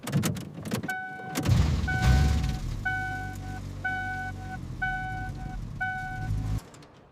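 An abandoned ambulance, restored after 50 years, idles with a low, steady engine rumble after starting, while a repeating electronic warning chime beeps in regular pairs over it before the sound cuts off abruptly.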